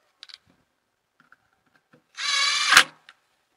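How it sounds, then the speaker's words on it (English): Screws on an EZGO golf cart's cover plate are tightened with a power driver. After a few soft clicks and handling taps comes a single short, whirring motor burst that rises briefly in pitch before it stops. "Want to be careful when using a power driver so you don't over tighten."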